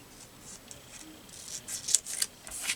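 Scissors snipping through paper while cutting pieces for a handmade journal, a series of soft, close crisp cuts building toward the end, no talking.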